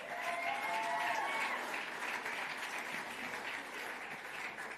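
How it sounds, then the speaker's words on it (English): Audience applause at a sports club gala awards night honoring a netball team of the year, a continuous wash of many hands clapping, fairly distant and even, with faint voices beneath. "One more round of applause"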